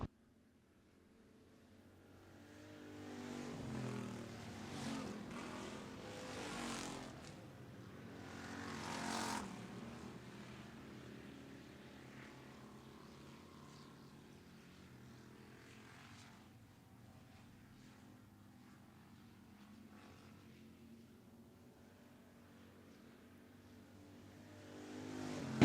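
Hobby stock race cars roaring around the dirt oval at Wagner Speedway, engines rising and fading as the pack passes, a loud continuous drone that swells several times, without talk.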